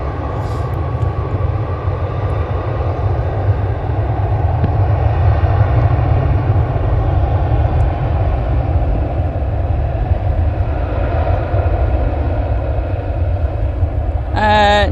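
Aircraft at Manchester Airport give a loud, steady engine roar that holds for the whole stretch without fading, with a brief higher whine near the end.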